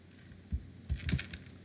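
Quiet keyboard typing while entering Python code, a few soft scattered keystrokes in a calm room.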